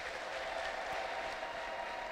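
A church congregation claps together after a closing prayer, a dense, even patter of many hands sustained throughout at a moderate distance, with no speech over it.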